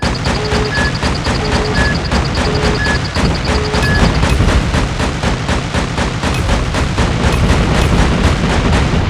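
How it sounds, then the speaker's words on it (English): A friendly nuke detonating in the mobile shooter Call of Duty Mobile, a continuous loud roaring, crackling blast wash with dense booming rumble that holds steady for the whole stretch, with faint repeated beeping tones early on. "Friendly nuke has been launched."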